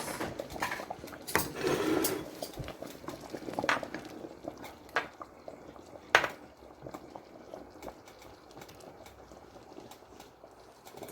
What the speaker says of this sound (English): I'm going to pull out some bowls and portion them up for our supper for tonight. I got some spoons.